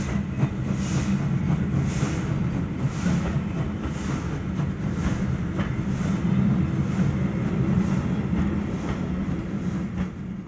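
A four-cylinder steam locomotive running, with loud rhythmic exhaust chuffs about once a second over a continuous low mechanical rumble, and no speech.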